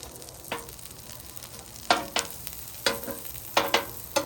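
Mashed potato cakes fry in a shallow pool of grease on a griddle, a steady close sizzle broken by several sharp spatula scrapes and taps.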